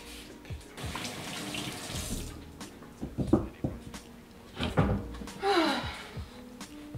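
A tap runs while hands are washed at a sink, with splashing water rising and falling over several seconds and a few light knocks, close by and moderately quiet.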